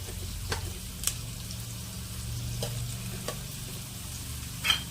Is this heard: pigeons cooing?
no